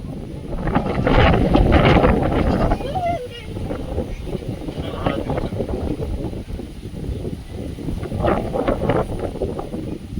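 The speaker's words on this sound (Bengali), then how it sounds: "সহসা জোরে বাতাস বইছে সঙ্গে বৃষ্টির ছিটে ফোটা আসছে" Strong gusty wind blows across open ground ahead of a storm, with a few spatters of rain, buffeting the microphone loudly, while a person talks over it at times.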